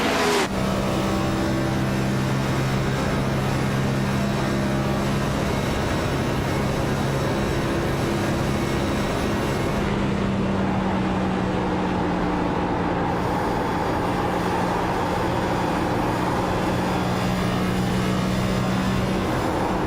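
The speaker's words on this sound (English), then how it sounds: "those tires screeching through the corner, just begging and trying to get grip for the driver" Cup Series stock cars in a racing video game at Indianapolis Motor Speedway roar continuously with steady engine drone and tire squeal through corners, loud and sustained, no voices.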